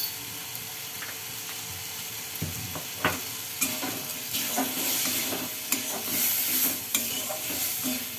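Cumin and coriander powder stirred and sizzling in a hot pan for a rui fish curry: steady scraping stirs over a continuous frying crackle, fairly close, with sharper spoon knocks here and there.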